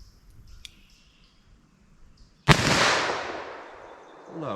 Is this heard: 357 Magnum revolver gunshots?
yes